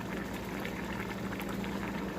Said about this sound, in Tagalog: Hanggang sa maluto lang po siya. Dapat dito, pag niluluto, nakita nyo yan guys.